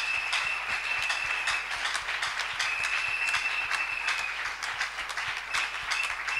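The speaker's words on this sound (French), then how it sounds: "Acclamons très fort le Seigneur." A church congregation applauds together in a reverberant hall, producing a dense, continuous wash of hand clapping with sharp claps standing out at a fairly even rhythm.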